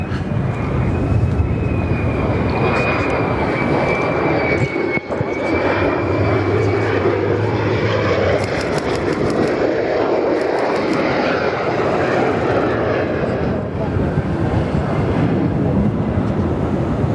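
Military aircraft fly at RAAF Williamtown during the Dawn Strike show, a loud sustained engine roar filling the whole stretch with a steady whining tone.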